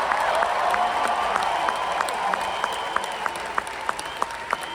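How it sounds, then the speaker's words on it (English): A live audience claps steadily in a large hall, with scattered sharp individual claps standing out toward the end; the clapping is moderately distant, and no shouting stands out clearly. "Somebody clap your hands and shout if you believe"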